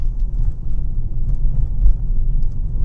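A 2022 Hyundai Sonata N-Line switched into sport mode gives a steady, deep engine and exhaust rumble that holds fairly even throughout, with no one talking.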